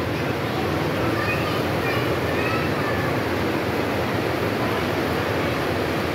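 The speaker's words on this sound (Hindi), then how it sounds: "ये हल्का हल्का पानी आ रहा है उसके अंदर" Water flows continuously through a shark-shaped fountain in a botanical garden in Lahore, a dense, even rushing wash that stays loud and close throughout, with no talk over it.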